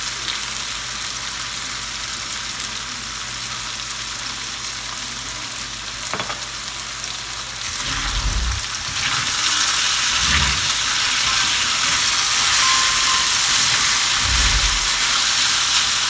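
Potatoes roast in a lot of oil, giving a continuous bright sizzle that swells louder partway through, with a few low knocks from stirring.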